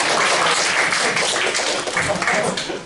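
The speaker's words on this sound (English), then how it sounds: "Big round of applause." A lecture hall audience at a computer graphics class applauds in a dense, sustained burst of clapping that fills the clip.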